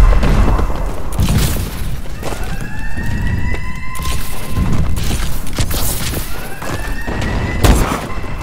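Explosions from a bombing run in a video game rumble in a loud, continuous barrage, with repeated booms and rising whistling tones layered over dense battle noise.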